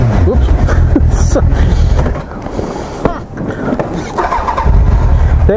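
A motorcycle engine on a New Zealand highway ride stalls when put in gear with the side stand down, its idle rumbling loudly, dipping and cutting out, then starting again, with voices talking over it.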